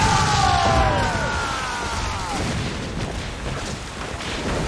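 Booming cannon broadside volleys from a sailing ship in the Assassin's Creed Freedom Cry video game, loud and dense at first with a whistling streak overhead, then settling into a rumbling roar of continued firing with no voices.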